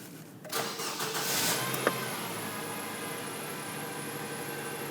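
A 2007-13 Nissan Sentra engine cranks for about a second after a fuel pump replacement, then catches with a brief rev and settles into a steady idle, with no talking.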